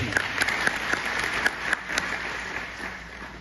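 An audience at a Punjabi literary society gathering in Calgary honouring Surjit Patar applauds. The scattered, distinct hand claps stand out sharply over a low room murmur, then thin out toward the end.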